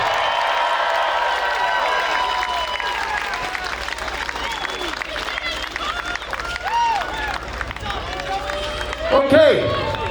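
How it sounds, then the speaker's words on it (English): A crowd at a tamale eating championship breaks into sustained applause and cheering for the contestants, loud and dense throughout, with an announcer's voice and crowd chatter mixed in. "How about a round of applause for all our contestants?"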